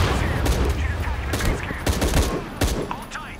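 Gunfire in Shadow of the Tomb Raider crackles in rapid, loud bursts of overlapping shots and heavy impacts, with a voice breaking in between volleys.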